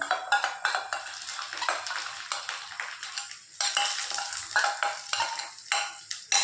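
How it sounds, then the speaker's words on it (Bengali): A spoon stirs yogurt and spice paste in a pan, with rapid repeated scraping and clattering strokes and a light sizzle underneath, close and fairly loud. "এখন ভালো করে নাড়াচাড়া করে দেবো।"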